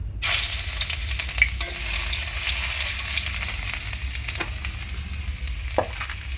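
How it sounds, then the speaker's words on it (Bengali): Grated ginger and dried red chillies sizzle in hot oil with tempering spices, a steady close frying hiss broken by a few stirring scrapes, with no talk. "এই যে ফোড়নের মধ্যে। এখন আদাটা দিয়ে দেবো।"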